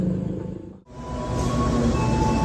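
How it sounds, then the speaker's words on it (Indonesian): The Pandalungan passenger train arrives at Jatibarang station, heard from on board as a loud, steady rolling rumble with a faint high tone. A sudden brief dip breaks the noise before it returns as constant running noise. "perjalanan kereta api Pandalungan tiba di stasiun Jati Barang"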